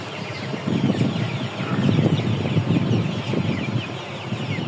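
Tiger chickens raised for meat cluck and murmur continuously in a busy, noisy farm coop, many birds overlapping close by with no talking.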